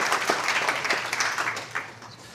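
A conference audience at a developer talk on music and PhoneGap applauds the speaker with steady, moderately loud clapping from many hands that gradually tapers off.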